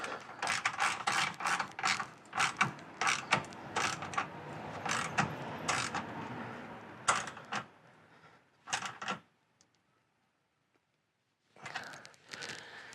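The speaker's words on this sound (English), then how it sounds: "I'm going to now fully tighten the bolt up here." Ratchet wrench clicking in repeated rapid bursts as it fully tightens a bolt on a bumper fascia bracket during a front fascia stabilizer kit install, close and fairly loud, with pauses and a short silent gap near the end.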